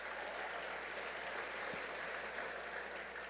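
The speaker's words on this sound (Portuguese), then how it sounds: "Aplauda o Senhor, meu irmão" A church congregation applauds during a worship service, a steady, even wash of many hands clapping, somewhat distant and fairly quiet, continuing without pause throughout.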